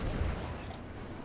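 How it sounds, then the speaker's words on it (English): Heavy naval gun turrets firing in World of Warships, with a dense, continuous low boom and rumble that holds loud through the whole short stretch. "that's when I bring my turrets around, when I can get everything firing at this Karlsruhe"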